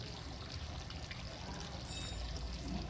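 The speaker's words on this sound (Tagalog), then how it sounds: "Lagyan natin yung patis guys." Fish sauce (patis) poured into a pot of chicken curry, a steady soft liquid trickle heard close up over low kitchen rumble, continuous for a few seconds.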